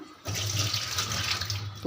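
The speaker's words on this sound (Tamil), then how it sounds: "இப்போ அந்த தண்ணியை கீழே ஊற்றிட்டு நம்ம கழுவிடுவோம்" Rusty soaking water is poured out of an iron kadai, a steady rushing splash into a sink lasting under two seconds, close and fairly loud.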